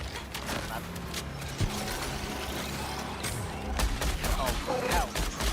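Gunfire from the video game Marathon, an extraction shooter, comes as rapid bursts and sharp cracks with mechanical clatter over a dense game soundscape. Voices talk now and then.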